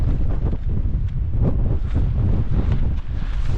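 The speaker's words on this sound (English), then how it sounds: "The wind now is going in the low 20s" Strong gusts buffet a mountain camp during Storm Bert, a loud, roaring rush of wind pressing on the microphone in uneven surges, close and continuous, with no voices.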